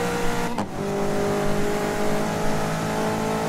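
A race car in GRID 2019 holding a loud, steady high-revving engine drone at full throttle, with a brief gear-shift dip early on, continuous and close.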